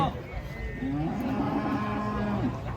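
A cow being unloaded from a truck lets out a long, loud, drawn-out moo with a wavering pitch, while voices are heard faintly in the background.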